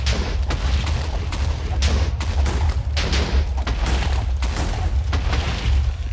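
A rapid series of loud explosions in the Minecraft video game, booming blasts following one another at an irregular pace for several seconds, close and continuous.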